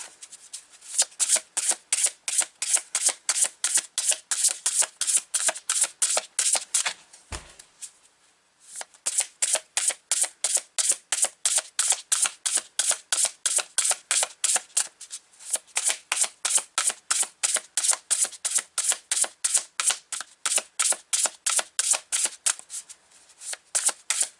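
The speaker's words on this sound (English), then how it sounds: "I saw this card before I started shuffling" Tarot cards are shuffled rapidly over and over, crisp riffling bursts in a fast steady rhythm, close up, with one brief pause partway through.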